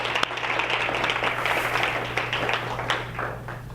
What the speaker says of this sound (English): Let's give Mel a round of applause here.